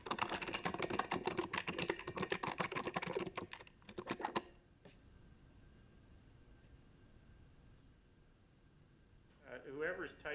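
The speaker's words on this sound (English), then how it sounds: "Whoever's typing furiously" Rapid, furious typing on a computer keyboard during an online committee meeting, dense clattering keystrokes for about four seconds, then a quiet room hum with a voice starting to speak at the end.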